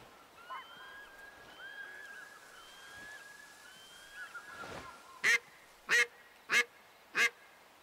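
Ducks in the hunting game Way of the Hunter, heard from roughly 80 to 100 meters away: faint, distant calls at first, then four loud, evenly spaced quacks close together near the end.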